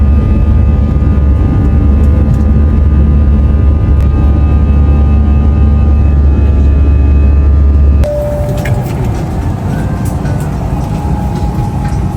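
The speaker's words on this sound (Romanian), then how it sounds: "Și un avion." A loud, steady low roar of an airplane flying overhead dominates the first eight seconds, then cuts to quieter background ambience with a faint tonal hum.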